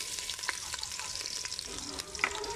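Garlic sizzles and fries steadily in a pot as the base for a wild goose dish cooked with coconut milk, with a dense crackling hiss and occasional spits and stirring scrapes, close and continuous.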